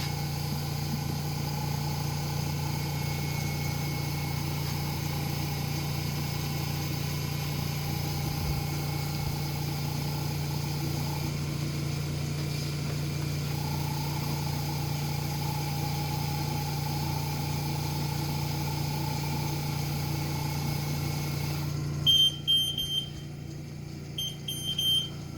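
A Cee 200XD spin coater spins at 3,000 rpm with a steady mechanical hum and a faint whine that runs unchanged, close and with no talking, before a brief change near the end.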